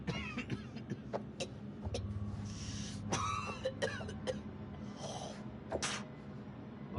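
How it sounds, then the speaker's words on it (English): Several rough coughs and throat-clearing sounds from a character in the horror video game The Dark Pictures: House of Ash, scattered irregularly over a low engine-like hum, fairly close and moderately loud. "That's a nasty cough."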